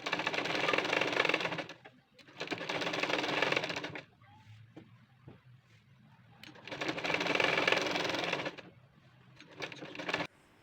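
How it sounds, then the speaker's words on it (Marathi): A sewing machine stitching along the edge of a folded blouse strip for a princess-cut blouse, with two short bursts of fast, whirring, rattling stitching, a quieter pause with faint clicks, then another long run and a brief final burst, all close up. "आता ह्या पट्टीला आपण काय करायचं आहे, असं आतल्या बाजूने फोल्ड करून घ्यायचं आहे आणि शिलाई मारून घ्यायची आहे."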